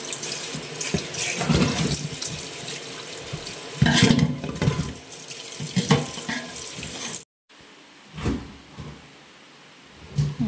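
Mud crabs being washed under a running kitchen tap, with a loud, steady gush of water and splashing that cuts off briefly, then returns as softer intermittent splashes.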